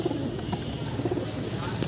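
Domestic pigeons coo in low, soft murmurs at a pigeon dealer's loft in Loni, several birds overlapping steadily and close by, with faint background noise and no talk.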